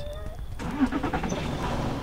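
A car engine rumbles nearby, starting up and running steadily under voices talking.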